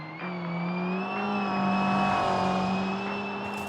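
A modified race Renault Twingo in BeamNG climbs a hill under power, its engine droning and rising steadily in pitch as it accelerates, loud and continuous with no talk.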